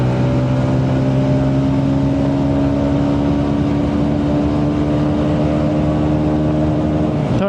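A TVS Ronin motorcycle fitted with a 14-tooth front sprocket pulls hard through its gears, its engine droning steadily loud and close with rising tone and no pauses.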